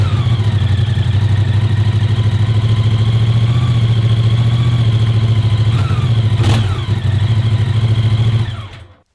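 A Moto Guzzi Stelvio's 1042cc transverse V-twin idles with a loud, steady, throbbing rumble close by for several seconds before the engine cuts off and falls silent.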